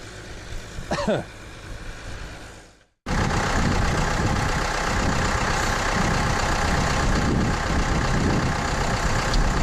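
A tractor engine runs in a continuous, fairly close rumble, steady and unbroken after a brief pause at the start, as the machine is driven back toward a shed.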